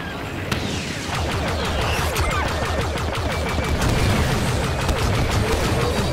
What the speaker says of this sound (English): Republic cruiser destroyed.